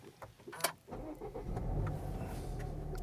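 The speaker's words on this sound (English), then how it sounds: "So I'll just turn the car on" A car engine, apparently a Range Rover Sport, cranks with a few clicks and then catches and settles into a low, steady idle, heard close by with no talking.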